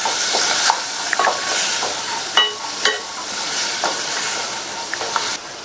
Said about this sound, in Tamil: மிதமான தீயில வச்சு இந்த சாம்பார் தூளை 2 நிமிஷத்துக்கு நல்லா வதக்கிக்கங்க.